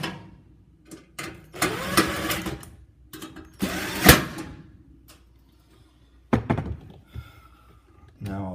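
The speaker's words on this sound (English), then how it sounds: "This is tightening the burners to the stove top." A power drill tightens the burners onto the top of a Kenmore 790.7050 gas stove, giving several short bursts of whirring with pauses and clunks between them, close and fairly loud.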